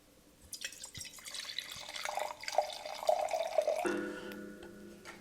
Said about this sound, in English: I'm gonna pour me a little bit of red wine.